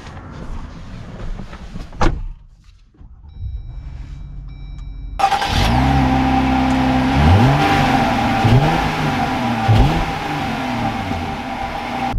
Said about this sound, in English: So we are setting off here in the Gladiator Mojave